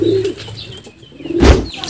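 Pigeons coo in low, throaty bursts close by in a pigeon loft, with a short flutter partway through.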